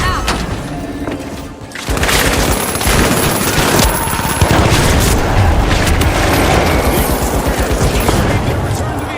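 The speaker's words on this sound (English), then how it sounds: "Throwing sonar grenade! Vanish bomb out!" Sonar grenade and vanish bomb blasts in a multiplayer shooter game, heavy booms and rapid bursts of gunfire running continuously and loud, mixed with game voices.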